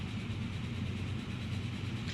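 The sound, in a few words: train running in the video game Transport Fever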